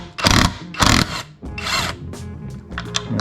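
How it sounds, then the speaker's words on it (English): A rattle gun impact wrench undoes a gear nut on a Landcruiser power steering pump, firing three loud, close hammering bursts, the last one longer, followed by softer rattling. "I'm going to use my rattle gun."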